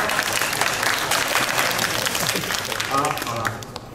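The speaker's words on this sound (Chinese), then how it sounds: "大家给新伟一个掌声。" Dense audience applause at a student club gathering rings out loudly and evenly, then tapers off near the end as a voice begins speaking over it.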